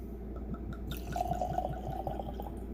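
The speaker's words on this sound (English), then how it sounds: "We'll see what happens when I get it in the tasting glass." Bourbon is poured into a Glencairn tasting glass, a soft close liquid pour with faint trickling and a light ringing tone from the glass, quiet and alone.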